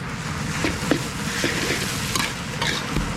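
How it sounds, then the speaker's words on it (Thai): Noodles tossed in sauce in a pan give a close, fairly loud stir-fry mix of a continuous sizzle with frequent scraping and clattering strokes of the utensil. "แล้วก็ผัดจน น้ำซอสเนี่ย เคลือบเส้นแบบเรียบร้อยแล้วนะครับ"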